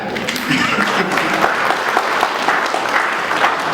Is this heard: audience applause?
yes